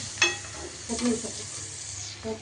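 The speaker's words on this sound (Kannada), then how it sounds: "ಆಮೇಲೆ ಫ್ರೈ ಮಾಡ್ಕೊಳ್ಳೋಣ" Salt and turmeric powder frying in a pan for homemade mango rice, a soft sizzle with a few scrapes and stirring knocks, fairly close and moderate in level.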